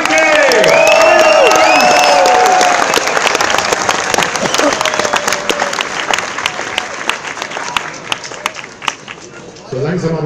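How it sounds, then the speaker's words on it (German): A large outdoor crowd applauds loudly and steadily at a maypole raising in Bad Waldsee, with cheers and whistles on top. The clapping fades out near the end. "Jetzt hätte ich einen Bad Waldsee-Applaus"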